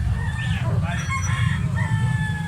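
A rooster crows close by, one drawn-out call rising and falling, with low background murmur and faint farmyard noise beneath it.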